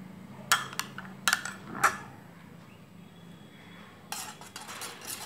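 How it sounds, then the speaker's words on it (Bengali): Egg whisk beating warm milk with beaten yogurt in a bowl, several sharp metallic clinks and scrapes in quick clusters, a quiet gap, then a softer burst of rapid whisking, close and without speech. "একটা এগ বিস্কার দিয়ে খুব ভালো করে মিশিয়ে নিতে হবে এটাকে"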